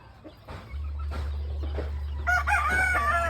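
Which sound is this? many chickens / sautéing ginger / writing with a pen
many chickens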